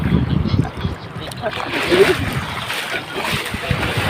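Water splashing and sloshing at a beach shore, with waves washing close by under people's voices and chatter throughout.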